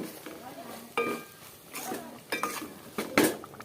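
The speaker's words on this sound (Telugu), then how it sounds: "ఇగో ఇలా ఉప్పు వేసిన, కలుపుతున్నా ఉప్పు" A spoon stirs salt through a pan of goat head curry, giving irregular scrapes and sharp metallic clinks against the pot, fairly close, with a louder clatter near the end and a faint voice in the background.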